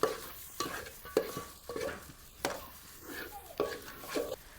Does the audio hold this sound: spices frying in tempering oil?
yes